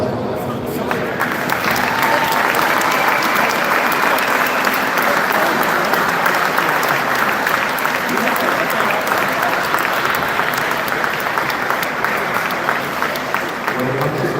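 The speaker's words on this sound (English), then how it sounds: "Let's give us a big round of applause." Sustained applause from a crowd at a Penn State Behrend sports event, dense and steady for the whole stretch, rising quickly at the start and filling the venue.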